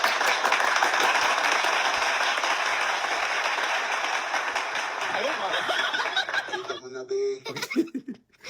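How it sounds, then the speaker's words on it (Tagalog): An audience breaks into sustained applause that fills the opening seconds at a steady level, then thins out into scattered claps and laughter as a voice begins talking near the end. "Isang palakpak ulit."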